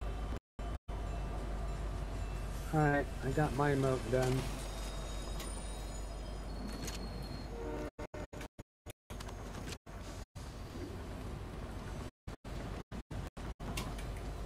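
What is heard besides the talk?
train riding in Fortnite video game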